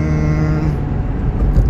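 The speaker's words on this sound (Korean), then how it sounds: "자, 가속을 한번 해보겠습니다." A Daewoo All New Matiz small car pulls away with a steady, close engine drone and rising hum heard from inside the cabin, with no talking.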